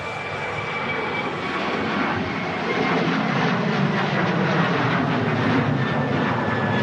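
A jet airliner at Manchester Airport on a windy day gives a loud, continuous engine roar with a faint steady whine, unbroken and close throughout.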